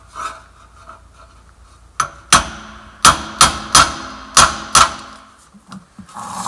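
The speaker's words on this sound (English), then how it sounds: "I'm going to have that big heavy bar and a big old sledge, and I'm going to give her a couple of good whacks" A big sledgehammer striking the slack adjuster of a truck air brake system, a run of about eight loud, sharp metallic whacks in an uneven rhythm, close by, with quieter scraping before and after.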